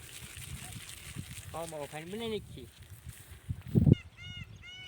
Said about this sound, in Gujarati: જાઓ મિત્રો મોરલા બોલે છે